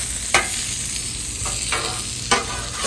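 Sausages sizzling on an outdoor breakfast grill in the early morning, a steady broadband crackle with a few sharp scrapes of a utensil sliding them across the grate, no talk.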